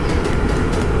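An MRT train rumbles loudly and steadily past Ayala Station in Manila, a dense continuous roar of rail noise with no voices over it.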